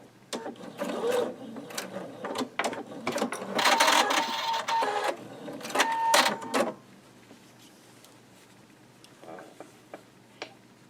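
A home sewing machine back stitching a quilt block seam for a Lemoyne Star block, a loud, close, rapid mechanical chatter running in bursts for several seconds, then stopping, leaving faint clicks and handling sounds.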